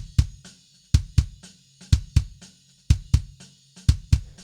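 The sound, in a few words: layered kick drum with sub in metal mix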